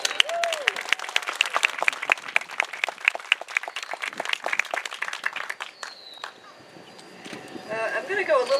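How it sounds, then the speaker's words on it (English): A crowd applauds steadily for several seconds at a lighthouse keeper's retirement event in Boston, the clapping thinning out toward the end as a voice begins speaking. "I don't think we gave Jay a round of applause yet."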